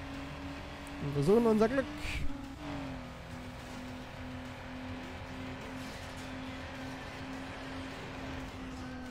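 A race car revs and accelerates at full throttle in Need for Speed Underground, a rising whining engine note at first that settles into a steady drone, with someone speaking German over it.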